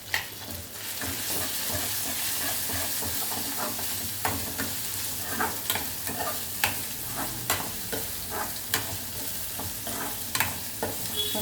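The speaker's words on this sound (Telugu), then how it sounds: "కొంచెం వేగాలి వెల్లుల్లిపాయ పేస్ట్" Garlic paste fries in a pan after ginger paste for a fenugreek leaf and moong dal curry: a steady close sizzle runs throughout, broken by frequent sharp scrapes and taps of a spoon stirring, with no voices.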